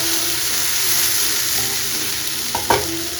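Spicy bhola fish curry and fried potatoes cook in a pan, giving a steady low sizzle with a few soft stirring knocks near the end, close and moderately quiet.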